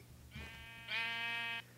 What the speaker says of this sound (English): ooh, sheep, get out of my way.